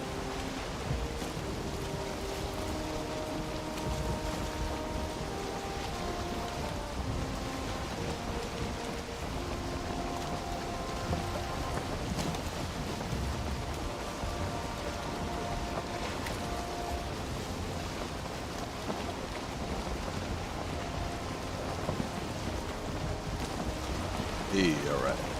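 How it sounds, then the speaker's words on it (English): Nighttime thunderstorm on the ocean in the video game Valheim: a steady, dense hiss of rain with a churning wash of waves runs throughout, with a soft tonal layer underneath and no speech. "Nighttime storm, sort of ocean."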